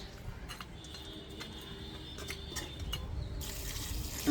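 Water trickles and splashes faintly into a pan while chicken gravy is being cooked, a soft steady pour with light clinks, quiet and close.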